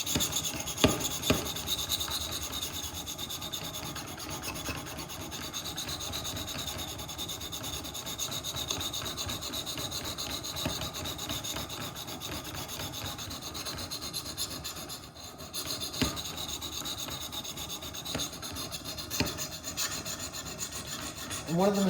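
Sharpening stones on a Wicked Edge Go rub back and forth along a knife blade, a steady, close rasping scrape repeating in even strokes with brief pauses, no voices.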